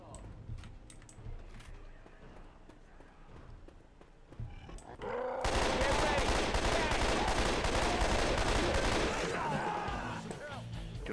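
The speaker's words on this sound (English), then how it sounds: "Everyone shoot the tank!" Sustained automatic gunfire in Left 4 Dead 2 as survivors shoot at a Tank, a dense loud barrage starting partway through after quieter game sounds, with voices talking over it.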